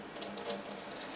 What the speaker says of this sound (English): you can see that it's dripping the whey out of it already